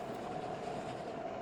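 A train runs on rails in the video game Oddsparks, a steady continuous rumble with faint clicking wheel noise and a thin tonal whine, quiet and even throughout without any talk.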